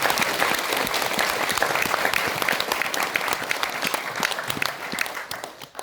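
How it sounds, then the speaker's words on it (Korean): A church congregation applauds at a special dawn prayer service, with steady, dense clapping that fills the whole stretch and tapers off slightly at the end. "박수로 격려하시기 바랍니다."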